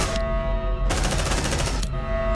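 Marines firing weapons in the Aliens: Dark Descent video game, with two loud bursts of rapid automatic fire, a short one and then a longer one of about a second, over a constant humming background.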